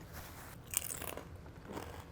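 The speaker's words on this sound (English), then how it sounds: "At home, it's just take a big old crunchy bite like this." A single crisp crunch of a bite into a fried turkey taquito close to the mic, followed by a few faint chewing crackles, quiet overall.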